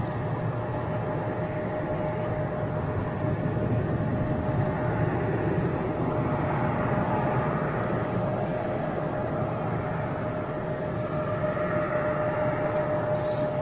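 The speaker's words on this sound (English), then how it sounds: "There's a little private, that will be a private jet, I have no doubt." A private jet at Boston Logan airport gives a steady, distant-sounding engine roar with a sustained whine, holding constant for over ten seconds without any talk.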